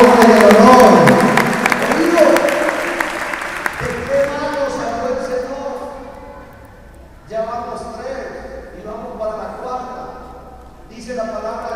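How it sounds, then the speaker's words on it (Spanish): A church congregation applauds, a loud burst of clapping that fades within a few seconds while a voice keeps speaking and sustained music plays underneath. "Denle un aplauso al Señor"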